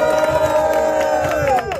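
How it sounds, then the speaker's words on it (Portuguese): A live crowd at a rap battle in Foz do Iguaçu cheers and shouts for a rapper, a loud sustained roar with a voice calling out over it, fading toward the end. "Muito barulho para as rimas da Danda!"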